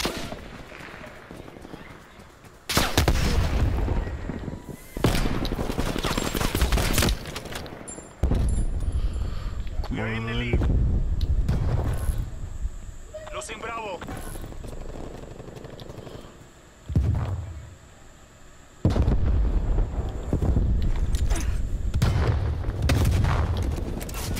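Grenade explosions and gunfire in Call of Duty: Black Ops Cold War, with several loud blasts and bursts of shooting separated by short lulls, plus a mechanical whine mid-clip.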